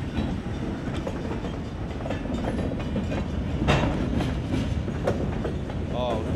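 A southbound Vermont Railway train rolls past near Bartonsville Covered Bridge, its steady rumble and rhythmic wheel clatter loud and close, with people talking faintly underneath.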